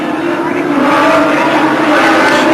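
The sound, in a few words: Nissan Skyline touring race car accelerating through corners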